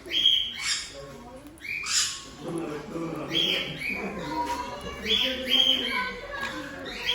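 Birds at Pookode Lake in Wayanad take food from an outstretched hand, giving repeated sharp squawks and chirps close by while people talk over them.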